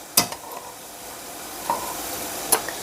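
Crispy rinds fry in hot oil with a soft, continuous sizzling hiss, broken by a few sharp crackling pops and a spoon tap, close and fairly quiet.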